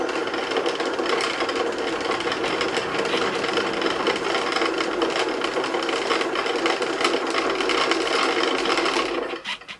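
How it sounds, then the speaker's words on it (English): A sewing machine's automatic bobbin winder spins thread onto a bobbin with a steady, close whirring hum that holds evenly for nearly ten seconds and then cuts off abruptly as the winder stops on its own. "you then push this here, the automatic bobbin winder, and let it wind until it's filled"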